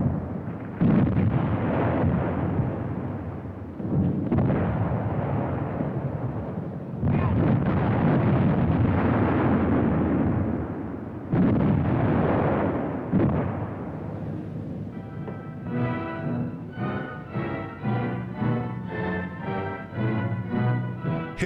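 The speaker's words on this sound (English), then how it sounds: "Artillerie nimmt die englischen Stellungen unter Feuer." Wartime newsreel of artillery shelling English positions: repeated heavy booming bursts and rumbling blasts fill the first fifteen seconds, loud and continuous, before giving way to a different tonal passage, likely music.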